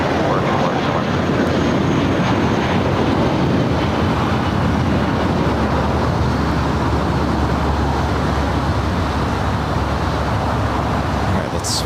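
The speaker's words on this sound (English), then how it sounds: "let's swing it back to the far east side as the Aer Lingus A330 arriving here from Dublin" An Aer Lingus A330 airliner arriving at LAX from Dublin produces a loud, continuous broadband jet roar that holds steady and close for the whole stretch, with no pauses.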